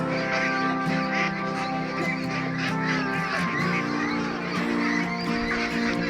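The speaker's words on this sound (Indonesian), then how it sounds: "Inilah bebek packing usia 44 hari, 44 atau 45 hari." Meat ducks 44 to 45 days old on a farm of broiler ducks, a dense chorus of quacking and honking calls, close and continuous, with a faint voice underneath.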